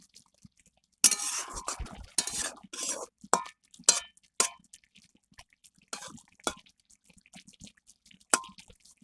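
Potatoes and spinach are turned over in a pan, giving a scattered run of close clinks, scrapes and soft wet taps from a utensil against the metal, irregular and without speech.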